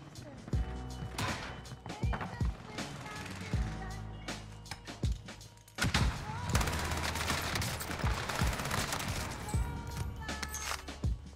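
Unsuppressed gunfire in the shooter Call of Duty Warzone comes as sharp, loud bursts of shots and rapid volleys spread throughout, with people talking over the action.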